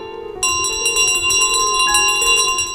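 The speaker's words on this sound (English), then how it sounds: "Steal the beautiful miniature golden bell" A small golden bell in Untitled Goose Game rings out suddenly and keeps jingling, a bright, close, continuous metallic ringing with repeated strikes that carries on to the end.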